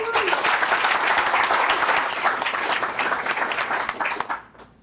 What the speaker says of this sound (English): So could you get a round of applause for those folks?